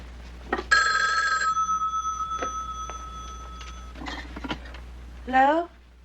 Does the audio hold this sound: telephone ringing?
yes